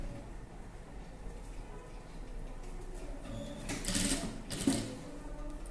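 A sewing machine stitches beads along a dress's round neckline, a quiet mechanical whir rising into two brief louder bursts of rapid stitching near the end.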